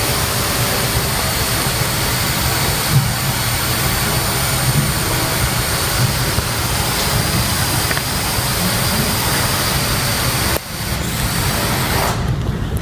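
A Raspberry Pi controlled drone in flight at an indoor conference demo, giving a steady, loud whirring rotor drone that runs unbroken throughout, with a short dip near the end.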